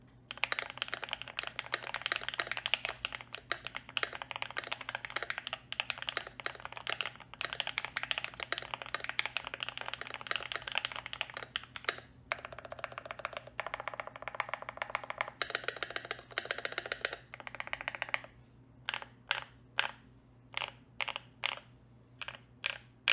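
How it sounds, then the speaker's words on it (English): Typing on a silver Keychron Q2 mechanical keyboard with a brass plate, a dense, quiet stream of rapid keystrokes that thins into a few separate, spaced key presses at the end. "To give you guys a sound test of the silver version of the keyboard"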